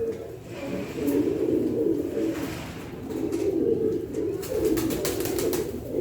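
Pigeons coo in soft, repeated low murmurs against a busy background with occasional clicks and rustles, near and steady.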